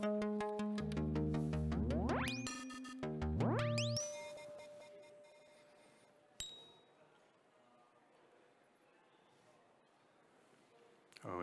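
Electronic synth tones bend and sweep upward in pitch, with pulsing, wobbling notes, then cut off to near silence broken by a click.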